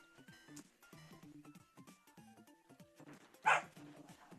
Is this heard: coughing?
no